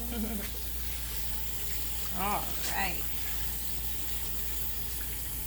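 Tap water runs steadily into a sink while soap is rinsed off hands, a soft constant hiss under a speaking voice, with a couple of brief higher voice-like chirps partway through.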